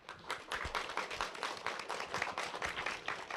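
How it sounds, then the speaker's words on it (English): Children applaud a visiting guest, a former Dallas Cowboys cheerleader, at a school reading event; dense, steady clapping from many small hands fills the room, loud and continuous. "let's give this person a very warm welcome with a big round of applause"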